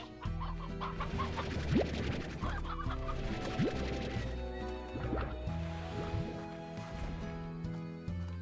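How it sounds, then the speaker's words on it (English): Chickens cluck repeatedly in the video game Slime Rancher, a busy run of clucks and squawks over a steady droning background, with no talking. "Ooh, chicken."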